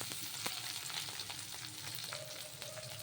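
Green chillies, onion, curry leaves and coriander spluttering in hot oil in a pan, a steady close crackling sizzle with scattered sharp pops throughout and no voices.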